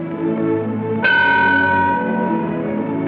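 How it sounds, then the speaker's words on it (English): A ship's bell is struck once, a single bright metallic clang that rings on and decays slowly with echo, standing alone over a steady low background. "Sound the bell once."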